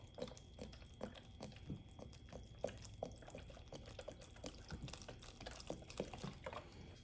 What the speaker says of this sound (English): And then we're gonna pour in our chicken broth.